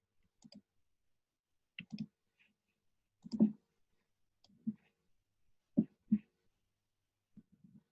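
Sparse computer mouse clicks during software work, about ten short, sharp, close clicks arriving singly and in quick pairs with quiet gaps between them and no voices.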